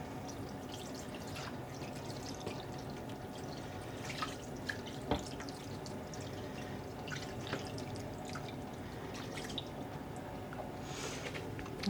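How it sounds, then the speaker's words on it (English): Homemade yarn dye liquid being poured into a pan on a stove, a faint, continuous trickle and splash with scattered drips and small squishy sloshes, quiet and close. "I'm just going to add in all the dye that we made."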